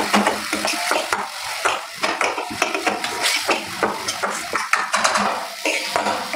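A utensil scrapes and clinks in a pan as tomatoes are stirred while they cook down for a channa dal gravy, with steady rhythmic stirring and a soft sizzle underneath.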